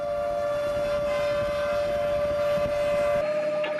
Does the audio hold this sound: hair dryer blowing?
no